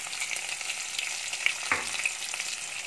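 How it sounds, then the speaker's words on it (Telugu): Onions frying and being stirred in a pan for chicken curry: a steady soft sizzle with occasional scraping clinks from a stirring spoon, close and fairly quiet, with no talk. "నెక్స్ట్ అవన్నీ 1 మినిట్ వేగిన తర్వాత మనం ఆనియన్స్ వేసుకోవాలండి"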